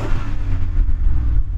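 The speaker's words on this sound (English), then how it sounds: "Go on, Yanni, rev up yours." A car engine revs at a drag race meet, a loud, dense, rumbling burst with little variation over a second and a half, no talking.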